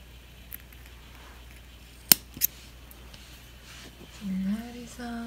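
Scissors snip Crassula succulent cuttings, with two sharp close clicks in quick succession, followed by a voice starting to speak.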